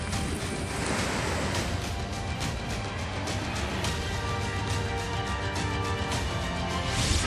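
Floodwater from a breached dam in Bihar rushes in a dense, continuous roar, loud and unbroken, with gusting wind-like noise over it.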